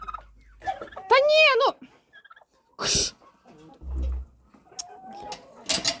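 A turkey lets out a warbling gobble up close, followed by scattered short clucks, thumps and rustles in a quiet farmyard setting.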